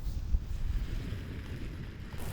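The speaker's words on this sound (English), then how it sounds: "this is more wind than yesterday" Wind blows outdoors on a hill, buffeting the microphone with a low, continuous rumbling roar that swells and eases slightly, with no voices.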